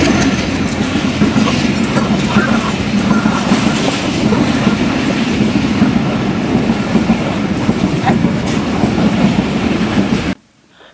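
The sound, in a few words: train arriving at station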